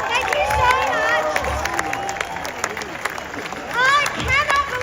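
At an anti-abortion protest in Sydney, a large crowd cheers and claps, making a continuous loud roar with whoops, while a voice speaks over the noise.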